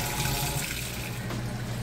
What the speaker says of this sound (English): Okay, now we're draining the water out.